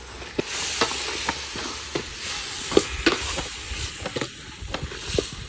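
Tomatoes frying in a pan for biryani over a hot stove, a steady sizzle broken by repeated scraping stirs of a spoon, close and clear with no talk.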